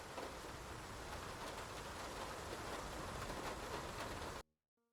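Steady rain pours at night in the video game Face Noir, a dense even hiss that continues for over four seconds and then cuts off abruptly into near silence.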